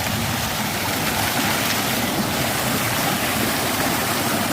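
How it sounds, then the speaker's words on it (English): Water gushing from a burst pipe into a river, a dense, loud, unbroken roar of rushing water heard up close for the whole stretch, with no voices. "it's actually a pipe, and it has burst, and it's like releasing water back to the river"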